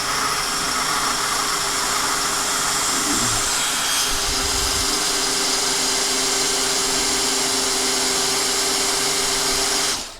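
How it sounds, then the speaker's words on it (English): Steady high-pitched whine of a DeWalt Atomic 20V MAX brushless cordless drill boring into hardwood, running continuously with a brief change in load partway through. "Now I'm going down a 1/2 inch with that into the hardwood."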